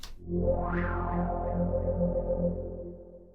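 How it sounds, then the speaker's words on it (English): A sustained synthesizer tone from the Serum synth with a delay effect, pulsing, repeating echoes that trail off gradually, heard alone and fairly steady in level. "the delay creates copies of our sound over time"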